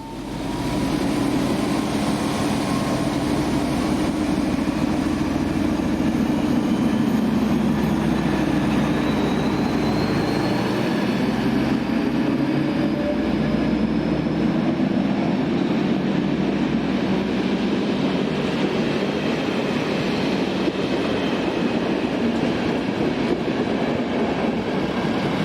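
A colourful Czech class 754 diesel locomotive hauls a train past, a steady loud rumble of engine and rolling wheels that holds throughout, with faint rail squeal rising above it.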